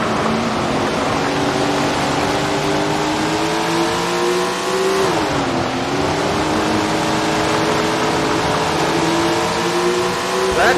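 Race car engines howling on the final lap at Washington Park in Tony Stewart's Sprint Car Racing, TQ midget cars, loud and continuous with layered revving that dips briefly mid-lap and climbs again.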